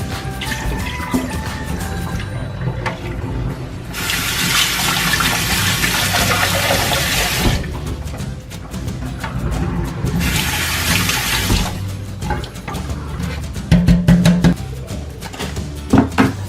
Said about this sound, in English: I'm just going to rinse this out and then I'll drain it